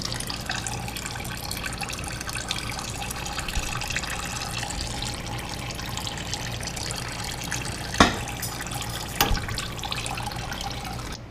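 Fluid drains steadily from a 1964 Chevy II, a continuous close trickling and splashing that holds even throughout, with a couple of sharp clicks or knocks near the end.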